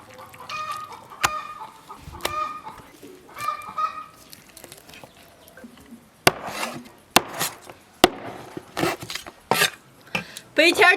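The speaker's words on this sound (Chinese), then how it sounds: "把鸡肉先剔出来" Whole chicken deboned and chopped on a board at home: scattered knife taps and cutting sounds, then a run of loud sharp cleaver chops, with stretches of quiet handling and occasional bursts of clucking.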